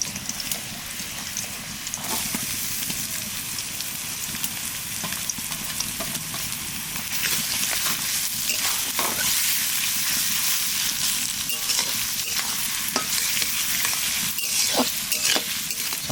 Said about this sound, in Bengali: পেঁয়াজটা একটু বেশি করে ভাজবো